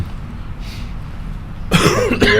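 A person at a public meeting clears their throat and coughs, two sharp, loud bursts near the end after a stretch of quiet room tone.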